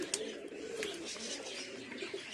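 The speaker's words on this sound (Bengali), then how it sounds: "এই তো সেই পশ্চিমা কালশিরাটা দারুণ পায়রাটা, বেশ দেখতে কিন্তু ব্যাপক লাগে।" Pigeons coo softly in low, rolling murmurs against a steady background hum, with a few brief higher chirps mixed in.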